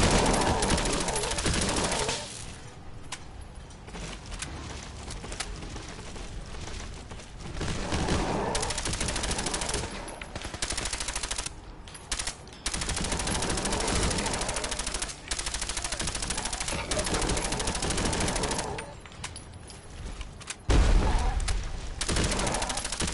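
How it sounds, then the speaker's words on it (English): Explosive-round gunfire in Fallout 4 Far Harbor: long stretches of loud automatic fire in bursts separated by brief gaps, punchy and close throughout, with heavier impacts toward the end. "You're no match for my explosive rounds."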